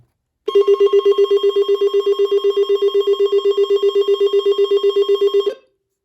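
A loud Alert Works EAR-10 amplified telephone ringer rings steadily for about five seconds, a rapid continuous trill with a full, bright but not piercing tone, then stops abruptly.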